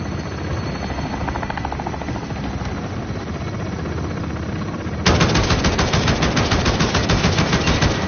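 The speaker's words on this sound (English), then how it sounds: "Enemy chopper gunner on approach." In a video game, an enemy chopper gunner's helicopter thrums steadily, then rapid machine-gun fire erupts halfway through and keeps hammering loudly over the rotor drone.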